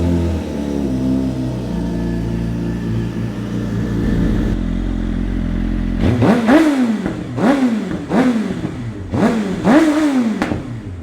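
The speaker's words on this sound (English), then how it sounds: "we should start the bike and just make sure everything's all good to go with this new battery" A Suzuki GSX-R motorcycle engine fitted with a new lithium battery idles roughly, then revs repeatedly in sharp rising and falling bursts, loud and close.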